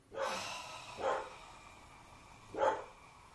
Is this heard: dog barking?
yes